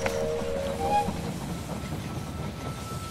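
Train arriving at a station in the strategy game They Are Billions, a brief chime and rumbling rail noise fading into a low steady wash, fairly quiet with no talk.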